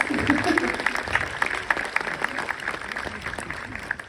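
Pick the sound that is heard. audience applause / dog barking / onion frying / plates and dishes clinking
audience applause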